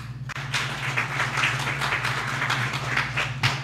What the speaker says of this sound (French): Je voudrais l'applaudir pour ça.